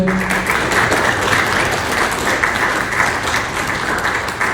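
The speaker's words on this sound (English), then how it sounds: "So a round of applause for the panelists" Dense, continuous audience applause for panelists at a board game convention panel, loud and close, a steady wash of many hands with no pauses.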